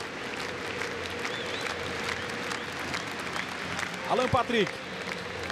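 Internacional supporters fill the newly reopened Beira-Rio stadium during a friendly against Peñarol, a dense, sustained crowd roar with applause beneath a commentator speaking over it.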